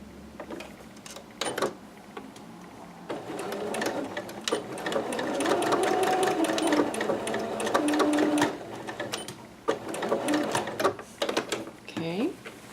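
A sewing machine runs close by, stitching straight down a seam line on a McCall's 6701 dress. Its rapid mechanical whir comes in long stretches separated by brief pauses and handling noises.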